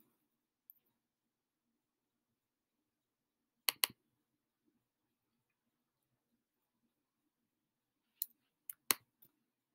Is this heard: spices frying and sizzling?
no